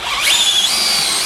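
A Dewalt DCD795 cordless drill spins up fast to a high whine and holds a steady, loud, close motor tone with no speech over it.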